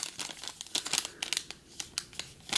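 A foil pack of Topps Chrome trading cards is torn open up close, with quick, bright crinkling and tearing in irregular bursts and short pauses between.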